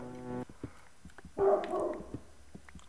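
A dog in the video game Minecraft barks and whimpers, with a short harmonic whine at the start followed by a louder, busier burst of yelps and scattered quieter sounds.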